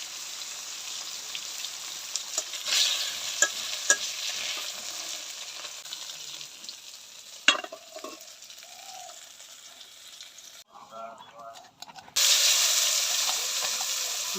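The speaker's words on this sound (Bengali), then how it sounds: "সবগুলো মাছ ভালো করে ভেজে নেব।" Fish sizzle and crackle in hot oil in a home kitchen, with scattered pops and a sharp clatter midway, the frying fading briefly before surging loud again at the end.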